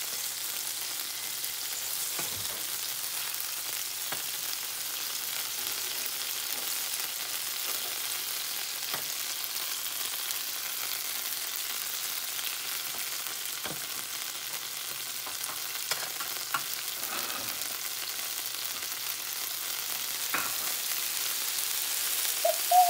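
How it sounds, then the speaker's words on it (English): A birria taco fries in broth in a pan, giving a continuous close hiss of sizzling broken by scattered sharp pops. "this broth keeps popping on me"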